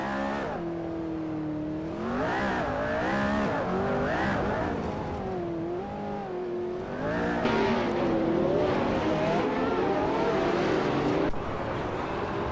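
Modern street race cars, such as a Koenigsegg Jesko and a Mercedes-AMG One, race in a video game. Engines whine and rev continuously, rising and falling as several cars pass, with no talking.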